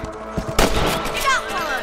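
Rifle shots ring out while hunting rabbits in the Western video game Red Dead Redemption, a few sharp, loud cracks with reverberant tails over game ambience and faint background speech.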